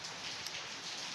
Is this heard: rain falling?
yes